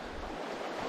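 A brook near the Deerfield River in the Somerset Wilderness flows toward a reservoir, giving a steady, close, broadband rush of water for about a second with no voices.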